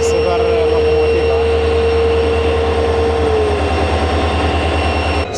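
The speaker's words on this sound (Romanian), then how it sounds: "Trece trenul, iar oamenii nici măcar nu se grăbesc pe calea ferată." Train locomotive rolling slowly along a railway in India, a loud, close, steady low diesel rumble with a rhythmic throb, a tonal whine that fades partway through, and no clear talk.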